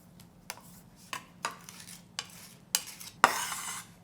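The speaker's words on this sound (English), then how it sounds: "let's crush garlic and sliced onion" Garlic cloves crushed on a board, a series of sharp separate thuds and crunches with a final louder press that trails into a short scraping rustle, close and quiet, no talking.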